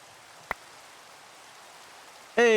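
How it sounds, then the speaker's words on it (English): Rain falls in Minecraft, in the ATM10 To The Sky modpack, as a soft, even hiss that runs throughout. A single brief click comes early, and a louder tonal game sound cuts in at the very end. "We're going to have to suffer through the rain"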